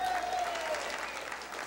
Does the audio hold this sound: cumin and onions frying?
no